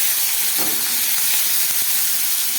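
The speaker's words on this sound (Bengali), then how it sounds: "এটাকে একটু ভালো করে ভেজে নিচ্ছি।" Onion, tomato and capsicum frying in oil in a pan with cumin and bay leaves, a loud, steady close-up sizzle and hiss with faint stirring scrapes, no talking.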